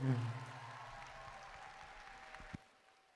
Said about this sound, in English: Let's get a huge round of applause for all of our volunteers